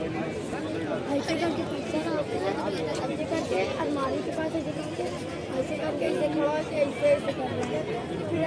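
A large crowd gathered for the laser show at the Prayagraj Kumbh Mela 2025 fills the air with steady, close chatter and a dense babble of many voices, with no pauses.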